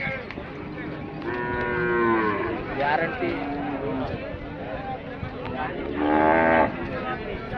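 Khillar and native bulls low and moo close by amid a busy cattle market crowd at Lasur Station, with people talking throughout and a louder bellow near the end.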